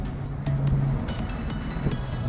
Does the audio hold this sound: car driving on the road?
yes